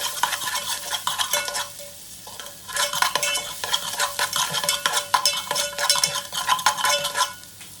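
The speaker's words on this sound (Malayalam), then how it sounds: "ഇഞ്ചും വെളുത്തുള്ളിയും ചതക്കി അതിലേക്ക് ഇടുകയാണ്. നല്ലോണം ഒന്ന് തലങ്ങും വിലങ്ങും ഒന്ന് ഇളക്കി കൊടുക്കുക" Crushed ginger and garlic stirred in a frying pan for crab curry, a spoon scraping in repeated bursts over a steady sizzle, close and fairly loud with no talking.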